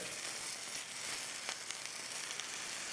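Fat side of a sous vide leg of lamb steak searing in ghee in a hot pan, giving a steady, quiet, close sizzle with a few small crackles and pops.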